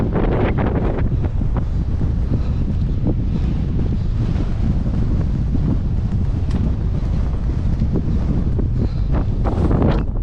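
Strong mountain wind near Ben More buffets the microphone in a loud, continuous roar with gusting rumbles throughout, no voices heard.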